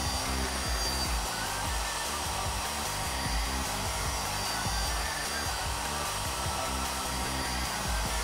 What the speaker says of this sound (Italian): Ci serviremo di questo phon.